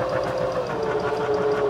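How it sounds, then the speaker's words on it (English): A Baby Lock Zeal 22 sewing machine runs continuously while channel quilting, giving off a close, steady motor hum with a rapid, even needle rhythm throughout. "keeping this guide on that row of stitching as I stitch from the top to the bottom"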